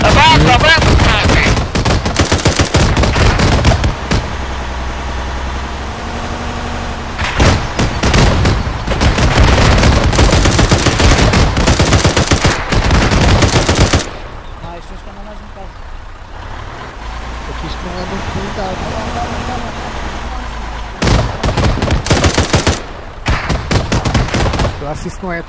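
Rapid bursts of gunfire crackle near a helicopter in the military video game Arma 3, loud and dense, easing into a quieter rumbling stretch before shots return at the end; voices can be heard over the action.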